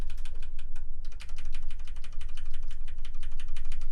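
Rapid clacking key presses on a Ducky One 2 Mini mechanical keyboard, close and crisp, in a steady burst with a brief pause early on.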